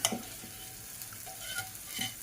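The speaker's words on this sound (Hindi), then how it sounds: "इधर छोंक तैयार हो रहा है। अब ये जब फ्राई हो जाएगी तो इसे दाल में डाल दूंगी।" Tempering (tadka) for daal fries in hot oil, giving a steady close sizzle with light crackles and the occasional scrape of stirring, and no one speaks.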